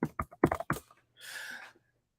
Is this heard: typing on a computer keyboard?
yes